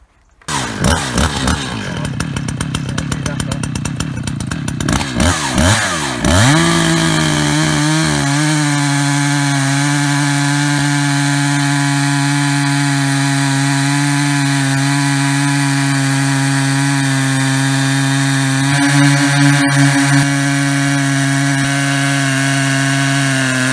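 A Panther chainsaw mill cuts through logs, the engine revving up then holding a loud, steady high drone for the whole stretch, close and continuous with no talking.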